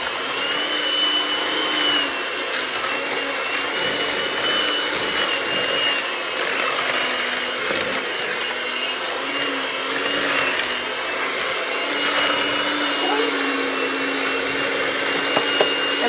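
An electric mixer whirs continuously through pound cake batter, a steady, fairly loud motor drone that holds for the whole stretch with no speech over it.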